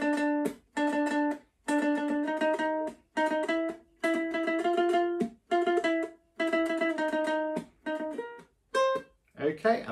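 A plucked ukulele plays the intro of a theme, a bright, steady melody in short phrased bursts with brief pauses between, clear and close, with no voices.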